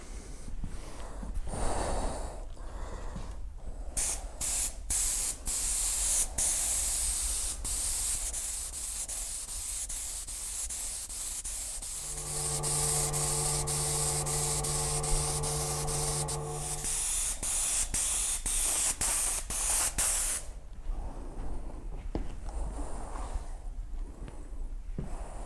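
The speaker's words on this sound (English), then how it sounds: "I've just laid down the clear, and hopefully what you saw in that clip was me sort of putting it over the repair and the new paint" Clear coat being sprayed from a spray gun over a smart repair in the middle of a large car body panel, a close steady hiss in long passes, with a heater's hum joining partway and brief gaps between passes.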